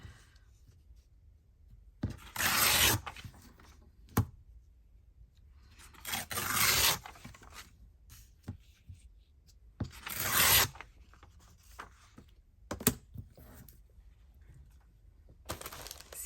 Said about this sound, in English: I'm going to just tear this.